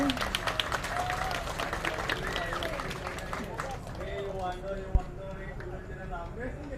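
Applause for gamelan musicians at a Balinese temple ceremony, scattered clapping mixed with speech and crowd murmur, fading after a few seconds into quieter chatter.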